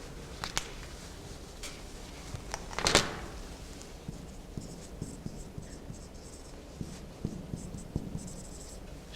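A pen or marker scratches out short strokes on a board during a maths lesson, with soft intermittent taps and one louder scrape amid quiet room tone.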